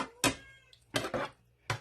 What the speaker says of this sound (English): our kitty cat is letting me know she's hungry